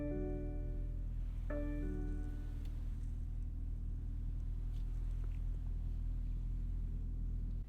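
A 2018 BMW X3 xDrive30i SUV driving, heard from inside as a faint, steady low engine and road rumble with a brief tonal hum early on; no voices.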